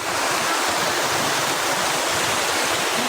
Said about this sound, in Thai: น้ำตกสวยงาม